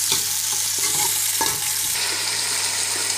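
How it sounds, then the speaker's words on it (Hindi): Onions browning in a pan, a constant loud sizzle of frying with intermittent scraping strokes as they are stirred, close up. "प्याज को अब ब्राउन करते हैं।"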